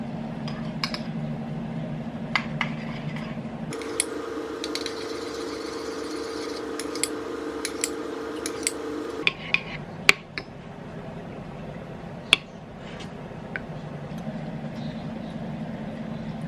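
Honey and hot sauce are stirred together in a bowl, with a spoon making sharp, scattered clinks against the dish over a steady background hum.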